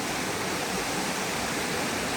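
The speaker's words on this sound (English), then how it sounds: "Laurel Falls. This is like" Laurel Falls on the Appalachian Trail, beside a river among rocks, gives a steady, loud broadband roar of falling water with no breaks and no talk.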